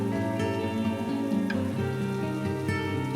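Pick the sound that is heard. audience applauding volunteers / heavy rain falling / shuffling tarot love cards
heavy rain falling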